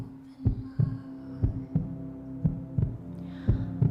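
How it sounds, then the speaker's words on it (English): Steady heartbeat, deep paired thumps repeating evenly about every half second over a soft sustained hum, with no talking. "I want you to just connect with the sound of this heartbeat"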